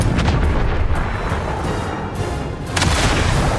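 Booming cannon fire at a door in the Duet Night Abyss video game gives loud, dense, rumbling blasts that run through the clip and swell again near the end.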